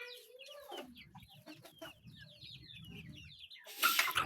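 Chickens cluck and chirp in a coop among growing young birds, a mix of close and farther calls in short bursts, ending with a loud rustle or flap.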